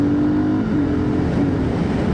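A BSA Scrambler 650 single-cylinder motorcycle engine pulls under acceleration, a loud, close, continuous throbbing drone that rises slightly in pitch, with no talk.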